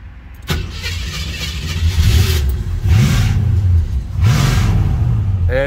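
A car engine cranks and catches, then revs up and down in repeated swells before settling to a steady idle, loud and close with no talking.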